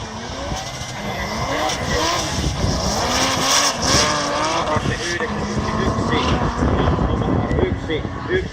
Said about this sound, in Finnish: Voi helvetti mitkä äänet tuossa E30.